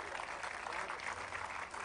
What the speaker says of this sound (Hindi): जोरदार तालियां भाई